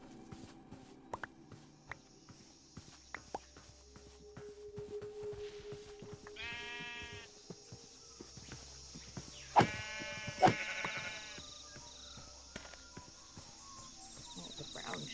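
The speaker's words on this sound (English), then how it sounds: "Oh, the brown sheep." Sheep bleat in Minecraft, including a brown sheep: two short wavering blocky bleats in the middle, over soft ambient game noise with faint insect-like chirps and scattered clicks.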